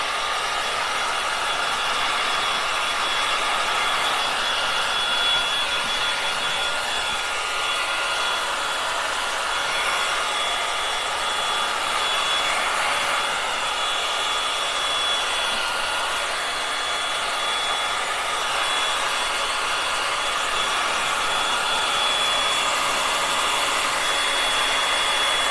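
A dryer blows a steady, even rush of air onto wet paint on an old wooden cupboard door. The broadband hiss holds unbroken for the whole stretch, with no talking.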